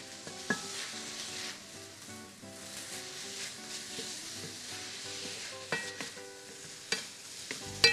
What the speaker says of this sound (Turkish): Beraber iyice bir karıştıran ve kavurmaya devam edelim.